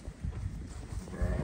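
Lambs and sheep penned in a farmyard for sale make low bleating and shuffling sounds, with a fairly steady murmur of livestock close by and a somewhat louder stir near the end.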